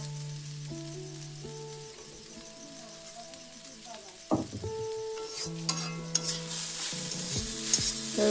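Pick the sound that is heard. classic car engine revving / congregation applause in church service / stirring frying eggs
stirring frying eggs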